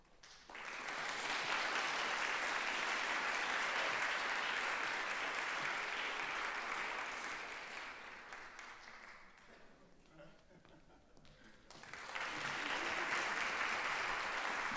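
Sustained audience applause at a climate change symposium, a dense wash of many hands clapping that fades down briefly before swelling back to full strength, with no voices over it.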